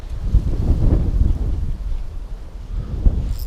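Strong gusts buffet the microphone with deep, rumbling roars that swell and ease, loud and close, with no voices, on a riverbank in spring.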